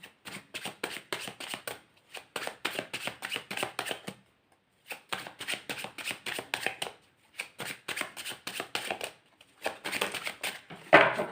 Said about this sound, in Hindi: और कार्ड्स निकालते हैं, क्या आता है आप लोगों के लिए